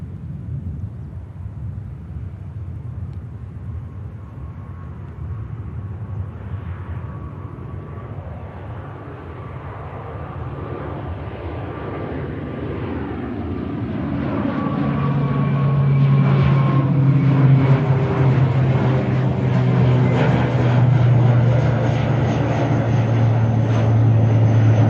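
A Loganair airliner departs Manchester Airport, a steady, loud engine roar building toward a rising jet whine as it climbs away.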